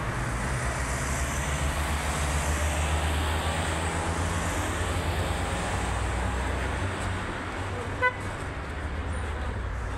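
An elevated metro train in Uzbekistan runs overhead with a broad, continuous rumble and faint tonal whine, near and steady, and a brief sharp click comes late on.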